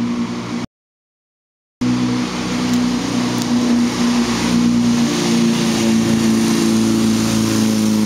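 A VW split-window camper van drives along the road at speed, its air-cooled engine droning with a steady pitched hum and road noise, broken by a short silent gap near the start.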